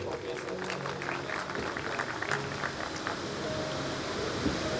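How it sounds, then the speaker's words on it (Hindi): An audience at a church mission day and bishop's ordination anniversary claps steadily, a dense patter of many hands at moderate distance, with a voice and faint tones underneath. "आप सबकी पुरजोर तालियों में।"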